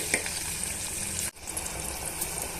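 Chopped tomatoes hit hot oil in a pan for a broad, steady sizzle with a brief drop and hiss partway through. The tomatoes are going into a masala gravy with cluster beans.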